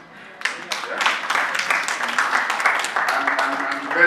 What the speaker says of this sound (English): people clap for Jennifer, isn't it?